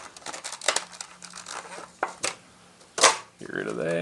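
Paper packaging crinkles and tears as paperwork is pulled out of a Streamlight Stinger XT flashlight box, with a sharp ripping cut near the end, close and fairly loud in bursts between quieter rustles.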